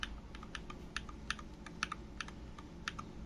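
Key presses on an Akko TAC75 HE magnetic keyboard, a quiet series of about a dozen crisp clicks at an uneven typing rhythm, close up with no voices.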